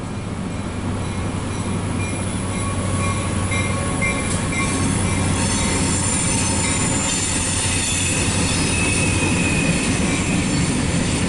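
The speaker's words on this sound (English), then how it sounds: "this might be the a local train going to Mexico" A CSX local mixed freight train rumbling past steadily with continuous rail noise and faint wheel squeal, fairly loud and close, with no voices.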